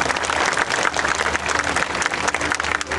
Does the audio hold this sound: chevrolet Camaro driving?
no